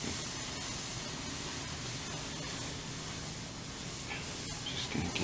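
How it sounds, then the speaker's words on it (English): A brazing torch flame hisses steadily while heating a Schwinn BMX frame during a conversion, a constant, fairly faint broadband rush with a few small clicks near the end. "Getting the torch right."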